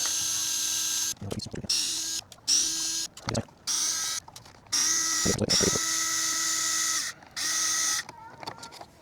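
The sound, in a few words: power drill removing screws from RC truck bumper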